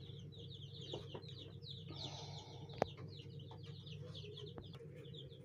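A newly hatched incubator chick peeps in rapid, high repeated chirps against a steady low hum, with one sharp click midway and no voices.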